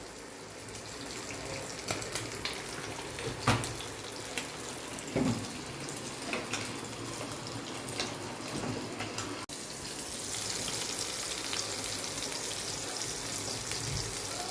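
Malvani-style surmai fish frying crisp in a pan gives a steady, close sizzle and crackle with occasional louder pops, without talk.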